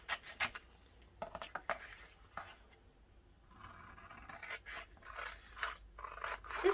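Scissors snip through fabric napkins in a series of short, crisp cuts, several in quick bursts, close and fairly quiet with no talking.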